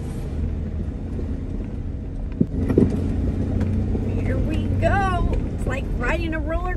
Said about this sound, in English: Riding a roller coaster in your Jeep.